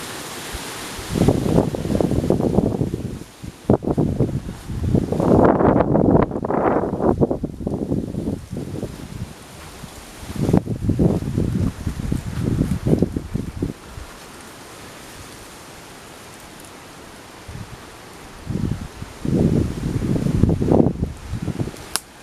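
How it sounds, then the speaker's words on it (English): Gusts of wind buffet the microphone in loud, rumbling bursts that rise and fall, with quieter lulls between them outdoors. "You can hear the wind just getting up now."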